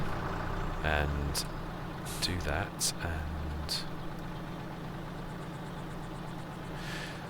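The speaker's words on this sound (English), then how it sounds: "Leave the engine running" A farm vehicle engine in Farming Simulator 22 idles with a low steady rumble throughout, while someone talks over it.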